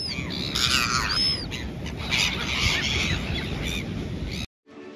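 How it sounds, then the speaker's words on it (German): Hundreds of gulls raid a breakfast spot in New Zealand's south, their shrill, wavering calls overlapping continuously over a rushing background, several cries rising clearly near, then cutting off abruptly at the end. "Beim Frühstück wurden wir von Hunderten von Möwen attackiert."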